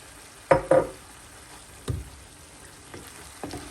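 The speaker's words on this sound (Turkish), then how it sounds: "üzerine 800 ml domates konservesi ekliyorum" Canned tomatoes are spooned into a hot pan of tomato paste for a fava bean pilaf, landing as several separate wet thuds and plops, each followed by a brief sizzle over a quiet background.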